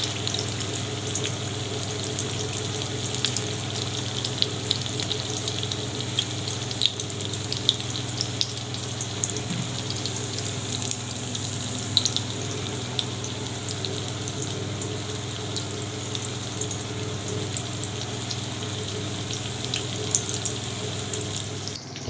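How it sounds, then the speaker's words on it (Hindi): Shami kebabs fry in hot oil with a steady, continuous sizzle and crackle that holds at an even level throughout, with no voices over it. "तो ये कबाब फ्राई हो रहे हैं।"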